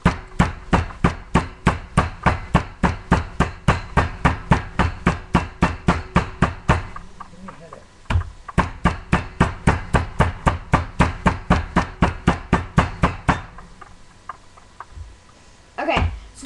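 Rapid, steady pounding of a meat tenderizer on steak, dozens of sharp close thuds in a fast rhythm, pausing briefly midway and again near the end.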